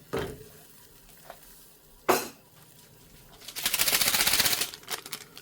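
Ottogi green onion ramen noodles go into a pot with a few close clatters and knocks, followed by a loud burst of bubbling, hissing water.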